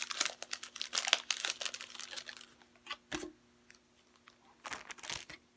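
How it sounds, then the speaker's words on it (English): Crinkly plastic packaging rustles and crunches in close bursts as a small pin is worked free, loud at first and then dropping to sparse, quieter crackles. "this cute little pin, which I will take out of the plastic so we can see it a little better"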